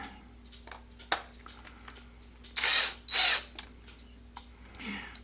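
A part on a wood and Alumilite pepper mill is snugged up with a tool, giving a sharp click and then two short, loud whirring bursts. Quieter handling noises follow, with no talking.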